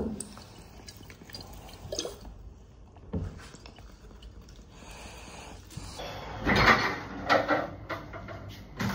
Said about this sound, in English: we'll water them again now just in case